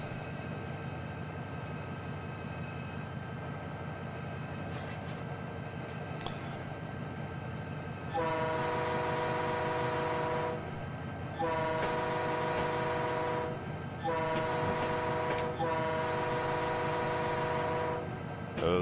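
A GP20 diesel locomotive in Train Simulator 2019, on the Blackwood Creek route, rumbles steadily, then sounds its horn in several long, loud blasts separated by short gaps.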